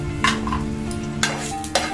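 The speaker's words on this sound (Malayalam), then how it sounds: "അതിലേക്ക് നമ്മൾ എടുത്തു വെച്ചിട്ടുള്ള കാഷ്യൂ നട്ട് ഇട്ട് കൊടുക്കാം കേട്ടോ" Cashew nuts fry in hot oil in a pan with a close, continuous sizzle, broken by three sharp scraping stirs of a spoon against the metal.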